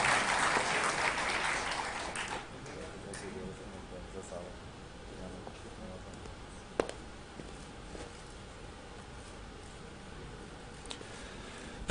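Audience applause at a university documentary gala in a hall, a burst of clapping in the first two seconds that quickly fades into quiet room noise with a few stray knocks.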